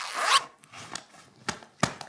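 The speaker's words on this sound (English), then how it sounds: "Let's zip our adventure bag together." A zipper on a child's adventure bag is pulled in one quick rasping stroke, followed by a few lighter clicks and taps as the bag is handled, close and clear with no talk.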